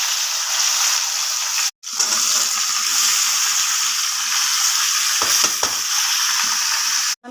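Arum stalks and jackfruit seeds hit hot oil in a wok with five-spice and bay leaf, giving a loud, steady close-up sizzle broken by a couple of short pauses and stirring clatter.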